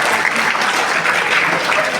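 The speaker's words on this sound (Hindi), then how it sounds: "फिर से तालियां बजाइएगा फिर से अपने लिए" A crowd at a comedic teacher's poetry performance bursts into dense, loud applause, a continuous wash of clapping with no voices on top.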